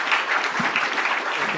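A conference audience at a session on union renewal in Europe gives a warm round of applause, a steady, dense patter of many hands heard alone.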